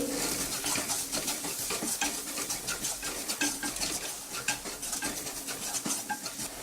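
Metal utensil scraping and clinking in a pan, mixing turmeric, garam masala and red chilli powder for onion paratha, in quick, steady strokes, close and continuous, with light clatter throughout and no voices.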